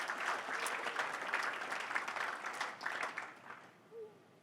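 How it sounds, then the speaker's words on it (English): An audience at a Cutco sales owners' conference applauds steadily and fairly distantly for several seconds before the clapping thins out and fades. "Can we just, give another round of applause?"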